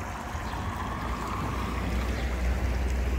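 Water runs down a city street toward the river, making a steady, loud, broadband rush with wind buffeting the microphone and no voices.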